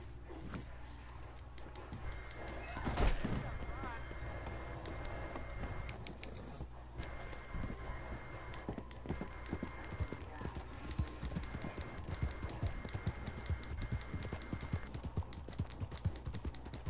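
Horse hooves clip-clop in a steady walking rhythm through Red Dead Redemption 2, moderately close and continuing under game ambience, with a sharp thud early on and people talking over it.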